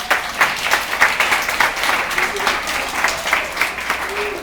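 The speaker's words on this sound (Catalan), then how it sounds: "Un fort aplaudiment." Audience applause at a nursing home before a theatre play, dense clapping with sharper individual claps standing out in a loose rhythm, close and strong, with brief voices rising through it.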